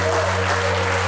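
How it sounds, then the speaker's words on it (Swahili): Church congregation applauding during a worship service, a dense steady wash of hand claps filling the room with a low sustained hum beneath, loud and continuous throughout. "Weka mikono yako juu, tumpatie Yesu makofi mazuri."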